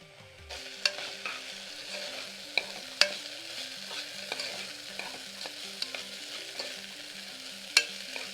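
Rice being stirred in a pot, a rhythmic scraping and clinking of a spoon repeating steadily over a faint sizzle, close and without talk.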